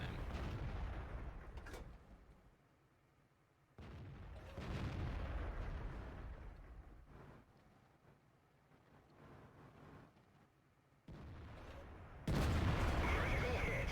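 Tank cannon fire in World of Tanks gameplay with British tank destroyers, the Charioteer, FV4004 Conway and FV4005: heavy booming blasts and rumbling explosions over several seconds, loud and near, with gaps of quieter battle noise.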